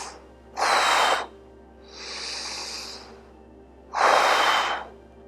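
Audible breaths during a seated row with a resistance band: a sharp exhale, a softer inhale, then another strong exhale, close to the microphone and without talk.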